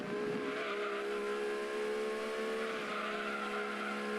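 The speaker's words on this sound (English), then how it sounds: "I can't believe the Miata is this damn fast." A Mazda MX-5 Miata races in Gran Turismo 2, its engine holding a loud, continuous high-revving whine with tire squeal layered over it, steady throughout with no speech.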